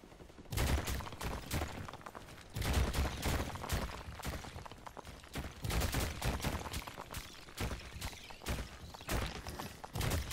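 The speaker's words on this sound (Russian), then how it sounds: "Ну, взрывы есть." Sphere explosions in the Dome Keeper video game go off as a dense, rapid series of sharp bursts, steady and fairly loud, with no voice over them.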